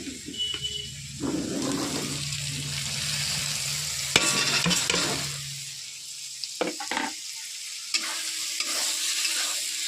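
Spice masala powder stirred and fried in a pan, a steady sizzle with scraping spoon strokes and a few sharper clatters, close and continuous throughout.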